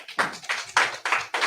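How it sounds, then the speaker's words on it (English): Rhythmic clapping from a church congregation during a Purim service, steady sharp claps in an even beat, fairly close, with no speech over them. "Clap it up for that."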